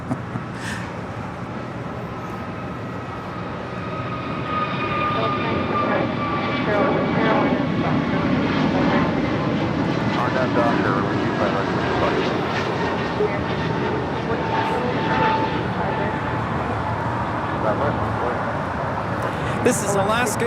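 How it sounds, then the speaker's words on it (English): Alaska Airlines Airbus A321neo departing LAX, a broad steady jet roar that swells after a few seconds and holds for the rest of the stretch, heard from the spotting area with a voice talking over it. "This is Alaska Airlines 286 departing to Newark on an A321neo."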